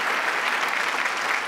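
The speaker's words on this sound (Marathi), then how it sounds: "एकदा जोरदार टाळ्या त्याच्यासाठी." An audience claps loudly and steadily for an artist's charcoal painting at a comedy stage show, a dense continuous wash of applause with no talk.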